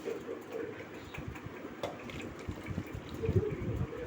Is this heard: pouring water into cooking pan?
yes